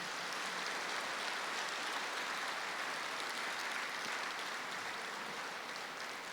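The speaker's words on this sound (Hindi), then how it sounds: "एक बार जोरदार तालियां बजाएंगे" A spiritual gathering's audience claps vigorously and continuously, a dense wash of many hands held at a steady level throughout, with no voices breaking through.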